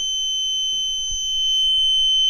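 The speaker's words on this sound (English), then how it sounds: "As you can see, my meter is beeping, which means this switch does have continuity." Steady high electronic tone from a multimeter on continuity mode, leads touching the terminals of a furnace high limit switch, holding alone and unbroken across the whole stretch with faint handling bumps underneath.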